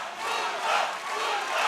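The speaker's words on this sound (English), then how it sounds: "And the crowd's screaming for Mundo in here. It's kind of loud." Loud crowd at a PROFC 18 fight event in San Ignacio, Cayo, screaming and cheering for a fighter, a dense continuous roar of many voices that swells and dips slightly, with no single voice standing out.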